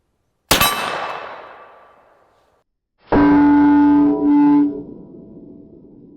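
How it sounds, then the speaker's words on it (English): A bullet from a Hi-Point 10mm carbine hits a steel gong at a shooting range: a sharp shot and metallic clang ringing out, followed by a loud sustained metallic ringing that hums on, with no talking. "Looked like it hit dead center of the gong though"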